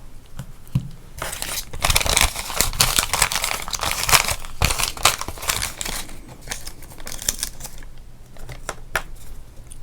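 A wrapper is peeled and crinkled off a 1987 Topps baseball card pack, a close, dense stretch of crackling and tearing that runs for several seconds before easing off into sparser rustles.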